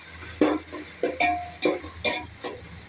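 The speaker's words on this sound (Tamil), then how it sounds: "இஞ்சி பூண்டு பேஸ்ட் நல்லா வதங்கிடுச்சுங்க." Ginger garlic paste sizzles in a pan as a spoon stirs it in about six rhythmic scraping strokes, each a short burst of frying noise, close and clear with no talking.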